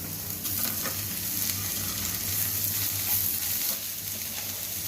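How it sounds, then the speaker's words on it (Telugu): Onions frying in a pan for an egg curry with spinach-like greens, a steady broadband sizzle with faint stirring scrapes and a low hum underneath, close and continuous without speech. "ఇప్పుడు ఉల్లిపాయలు వేగినాయి, ఇందులో వేసుకున్నాం. ఉల్లిపాయలు బాగా వేగినాయి."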